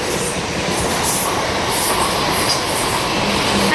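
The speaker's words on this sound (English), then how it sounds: "passing through is the 10:05 South Western Railway service to London Waterloo" A South Western Railway class 444 passenger train runs through a station at St Denys, a loud continuous rumble and rush of wheels on rails filling the whole stretch, close by and unbroken.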